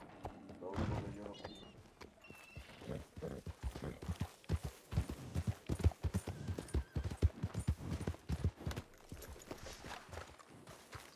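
Horse hooves clip-clopping in a ranch roleplay video game, a close, fairly loud and uneven stream of hoof thuds continuing throughout, with faint voices present in the background.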